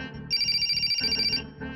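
A telephone rings in a Hindi comedy film scene, a bright electronic trilling ring lasting about a second, loud and close, with low background murmur around it.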